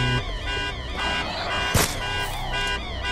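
A car alarm blares in the zombie game Dead Island 2, a loud, continuous wailing tone with sweeping pitch and steady harmonics, marked by one brief sharp burst partway through, with game music and effects layered underneath.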